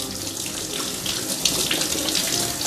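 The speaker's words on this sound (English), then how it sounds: "you can actually wash it under running water." Running tap water gushes steadily over raw prawns being rinsed and scraped at a kitchen sink, a continuous close broadband splashing with small surges in intensity and no talk.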